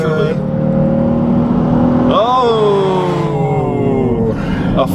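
A 2013 family SUV, either a Nissan Pathfinder or Dodge Durango, accelerating hard through a 0-60 mph run, its engine note climbing and shifting with a rising pitch sweep midway, loud and close, with a voice talking over it.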